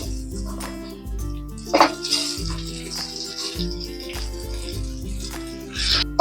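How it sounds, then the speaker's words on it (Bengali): Raisins and rice being stirred and fried in a pan for Bengali basanti pulao, with scraping and clinking of the utensil against the pan over a low hum. "চালটাকে আমি ভালো করে ভেজে নেব কিছুক্ষণ।"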